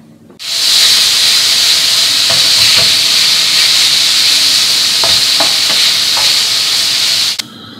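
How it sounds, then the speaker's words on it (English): Lamb pieces sizzling loudly in a hot frying pan, a steady bright hiss lasting several seconds with a few scraping stirs before it cuts off. "we're going to put that in the frying pan on the hot heat until all the sides are brown"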